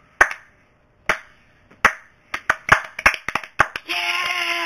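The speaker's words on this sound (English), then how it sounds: "slow clap." A single person's slow clap, sharp isolated hand claps spaced about a second apart that quicken into a faster run of about a dozen, ending as a steady tone takes over.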